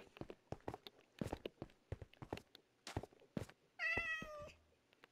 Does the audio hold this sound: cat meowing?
yes